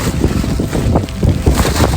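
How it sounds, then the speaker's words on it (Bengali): Strong wind gusts across a hillside in Taiwan during rain on the way down. The roar is loud and buffeting, with a steady rumbling rush that surges throughout. "আর মারাত্মক হাওয়া, মারাত্মক।"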